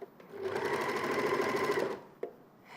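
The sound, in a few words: overlocker sewing machine trimming fabric edges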